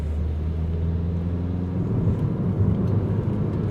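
A Citroen C4 Picasso 1.6 BlueHDi diesel with a faulty NOx sensor accelerates, giving a steady low engine drone and road rumble heard from inside the car.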